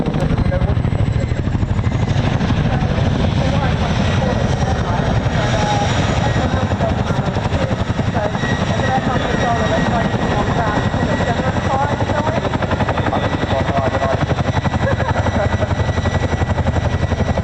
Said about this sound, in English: demonstrates how surprisingly manoeuvrable the large helicopter is